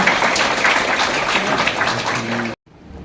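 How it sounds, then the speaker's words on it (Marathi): A crowd at a public campaign launch in Akole gives a round of applause, steady dense clapping that fills the space for about two and a half seconds before cutting off abruptly. "आपण एक जोरदार टाळ्या या ठिकाणी"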